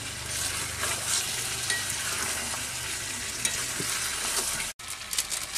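Chicken with food colour and fried potatoes is stirred in a hot pan for chicken biryani, a steady loud sizzle with scraping stirs and a brief cut near the end.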